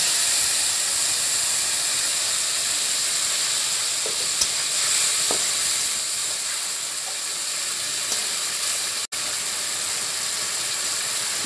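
Soaked mustard paste going into hot oil with a panch phoron tempering, giving a steady close hiss and sizzle that runs throughout, with a few faint clinks and one sharp click partway.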